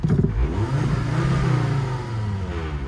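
A 2001 Volvo turbo all-wheel-drive wagon engine revs up loud and close, swelling to a sustained high-rpm roar, then easing back toward idle.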